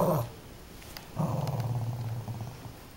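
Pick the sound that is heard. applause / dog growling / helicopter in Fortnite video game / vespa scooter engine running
dog growling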